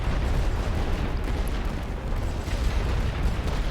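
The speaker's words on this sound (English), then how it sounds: "I'll be able to do some real serious damage with heavy artillery" Heavy artillery fire in the WWI strategy game The Great War: Western Front, heard as a continuous low rumbling roar of blasts blending together, loud and dense without distinct separate booms.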